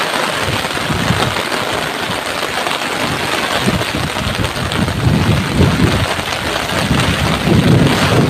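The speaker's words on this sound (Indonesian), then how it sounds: "Hujan deras" Heavy rain pours with strong wind over rice fields. A dense, loud, unbroken hiss is joined by low rumbles of thunder that swell toward the end.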